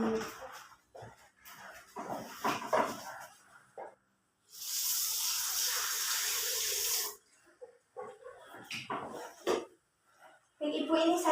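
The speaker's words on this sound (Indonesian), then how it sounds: "saya izin cuci tangan terlebih dahulu ya" Hands are washed under a running tap in a clinic exam room, a steady rush of water lasting about three seconds, with people talking just before and after.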